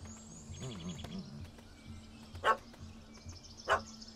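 In The Witcher 3, a dog barks at a cat up in a tree: two sharp, separate barks, moderately close, over a quiet background with faint voices.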